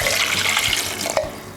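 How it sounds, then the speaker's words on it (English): Water poured into a pot of washed carrot, bell pepper and fresh chili, a steady close splashing gush lasting under two seconds. "So I'm going to add water to it."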